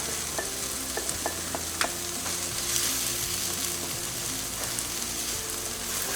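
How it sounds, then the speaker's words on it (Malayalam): Tomato sautéed with spice powders in a pan for egg biryani: a steady, moderate sizzle with repeated scraping and stirring strokes and a few light spoon clicks. "പൊടി നന്നായിട്ട് വഴറ്റിയെടുത്തു"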